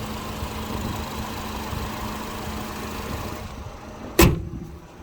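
A 2012 Nissan Sentra SR with a 2-liter engine idles steadily at close range, a low even hum, before a single sharp thump like a hood or door closing cuts in near the end.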